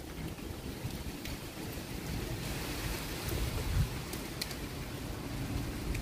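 Steady rain pours down outdoors with a low, gusting rumble of wind underneath, heard as a soft, continuous wash of storm noise.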